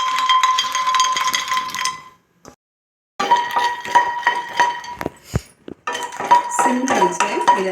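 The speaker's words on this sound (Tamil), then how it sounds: "இது இப்போ நம்ம லைட்டாக வறுத்துக்கலாம்" Makhana (fox nuts) dry-roasting in a pan, stirred with bursts of light clinking and rattling broken by short pauses, close and fairly loud, no talk.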